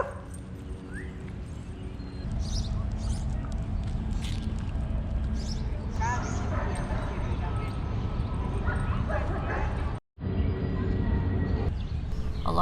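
Dogs bark and yip in a few scattered bursts in Central Park, mostly distant and moderate, over steady outdoor park ambience and passing voices.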